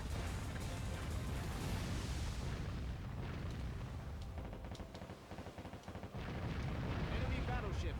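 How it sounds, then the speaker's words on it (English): Naval battle gunfire and explosions as an enemy battleship is sunk in the video game Warship Gunner 2, with a dense, continuous roar of booms and blasts that briefly dips before surging again. "Enemy battleship sunk."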